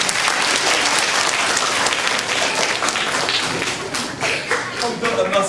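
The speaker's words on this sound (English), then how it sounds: "give Yasmin a round of applause" An audience at a National Science Week science show gives Yasmin a loud, dense round of applause that stays full and close throughout, with a few voices mixed in.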